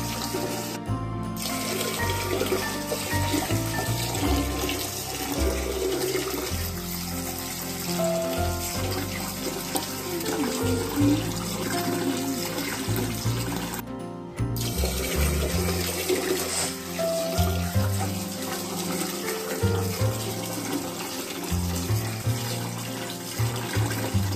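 Rice for multigrain dosa batter, ration rice, being washed by hand in water: steady, close swishing and sloshing continues throughout, with no talking.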